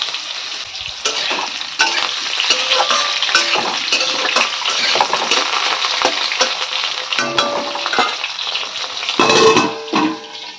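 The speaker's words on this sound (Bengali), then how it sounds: "আলু দিয়ে দিলাম, আলুটা ছেড়ে ওপাশে মাঝখানের ওভেনটা বসিয়ে দেবো গরম জল।" Potatoes fry in a pan with a dense, steady sizzle and crackle, broken by clattering stirs and a louder burst near the end. It is close and there is no talking.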